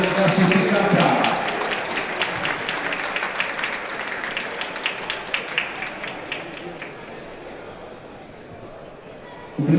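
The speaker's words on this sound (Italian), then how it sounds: "Sì, arriva l'applauso" Applause at a volleyball award ceremony, a dense wash of steady clapping from a crowd that gradually thins and fades, with voices mixed in underneath.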